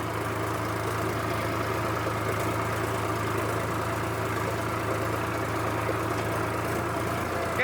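A tractor engine runs steadily while ploughing a field, a constant low droning rumble with no change in pitch or talk throughout.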